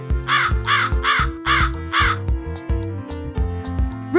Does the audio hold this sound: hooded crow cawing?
yes